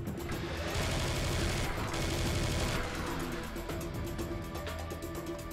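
A Serious Sam 3: BFE minigun spins out a continuous, dense, loud stream of rapid fire, broken by brief heavier crashes, with no talking over it.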